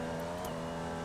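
Racing car engine in a video game, revving after a missed gear shift. A steady, buzzing, harmonic engine whine holds at a fairly even pitch over a brief moment, with no voices.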